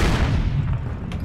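Gunfire in the tactical shooter game Project Reality: a dense burst of booming shots at close range, loud and continuous for about a second, with no talk over it.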